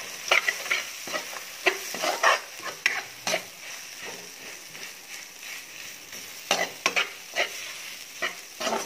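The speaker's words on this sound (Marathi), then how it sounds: "मसाला छान असा परतून घ्यायचा आहे, मग त्याला छान कलर सुटतो." Kolhapuri onion-garlic masala sautéing in a pan after dissolved tomato, with a steady low sizzle broken by repeated scraping stirs and spoon knocks, close and alone with no talk.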